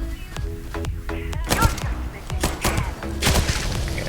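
Radburn gun in Starfield firing in bursts, a series of sharp thudding shot clusters repeating every second or so, loud and close with no talk.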